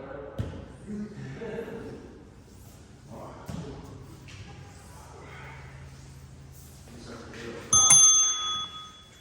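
A bell rings out clearly near the end of an indoor lunch-lab session on mats, following quiet talk and shuffling movement.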